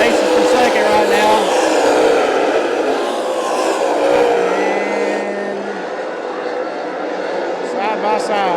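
Lucas Oil late model race cars battling side by side at Smoky Mountain Speedway, a steady roaring engine drone with passing cars swelling and fading, heard beneath continuous announcer commentary.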